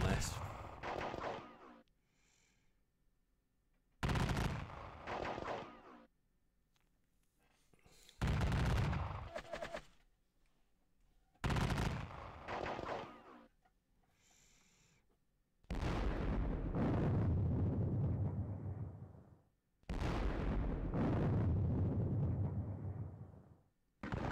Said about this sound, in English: Shooting is scary, Mary.